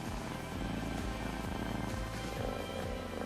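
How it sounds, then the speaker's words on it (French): A low, steady purr that rumbles continuously and close, with no voices over it. "Le bruit caractéristique du ronronnement provient de la vibration des cordes vocales."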